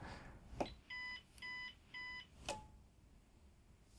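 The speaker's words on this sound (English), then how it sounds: "It's a little warning beep there to let us know there's 1000 volts on the probes." Three short, evenly spaced electronic warning beeps from an insulation tester with 1000 volts on its probes, fairly loud and close, set between a couple of sharp clicks in an otherwise quiet room.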